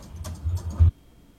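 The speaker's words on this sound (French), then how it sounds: "Excusez-moi, j'écris au clavier." A short burst of computer keyboard typing, several quick close clicks in a row, then silence.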